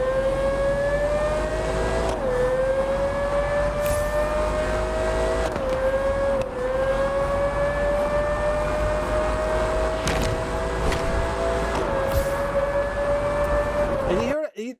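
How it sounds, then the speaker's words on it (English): A Pagani supercar in a racing video game holds a steady, droning engine note that dips briefly at a few gear shifts, then cuts out abruptly at the end. "Very low rumble, like just a deep Mercedes rumble."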